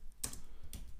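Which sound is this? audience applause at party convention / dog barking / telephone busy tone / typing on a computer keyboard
typing on a computer keyboard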